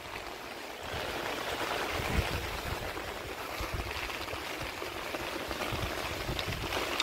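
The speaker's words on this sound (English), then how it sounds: "Water, rain's picking up." Steady rain hisses over a yard with a drainage system, a dense, even wash of falling water with a few louder spatters, no voices.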